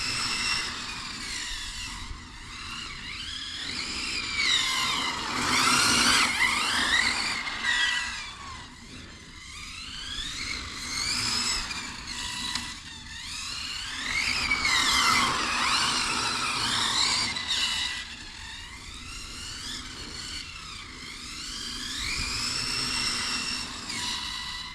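A Hobao VTE carbon RC car tested at a track, its electric motor whining up and down in repeated passes, rising and fading as it circles near and far, with no talk.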